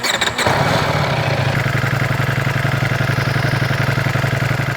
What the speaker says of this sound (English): now we are going to start the engine and have a check what the dB is right now